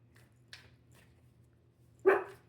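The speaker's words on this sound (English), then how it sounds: "And my dog is out, so if y'all hear anything in the background, that's him doing what he do." A dog in the background gives a few faint, short yips followed by one sharper single bark, distant and sparse over a low steady hum indoors.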